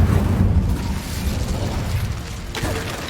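An Incendio fire spell goes off in Hogwarts Legacy with a dense, steady roaring rush of flame. It stays loud and close for about three seconds, with a brief crackling flare near the end.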